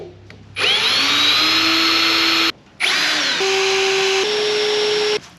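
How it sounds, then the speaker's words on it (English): Power drill boring pilot holes in a Pontiac Firebird deck lid: two loud, sustained whining bursts of a few seconds each, separated by a short pause, with the motor pitch shifting partway through the second run. "let's drill some holes in the deck lid."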